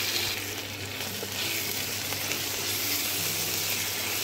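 Chopped onion frying in oil with spoonfuls of garlic paste and ginger paste added, a dense steady sizzle with occasional stirring, close and constant, no voices over it.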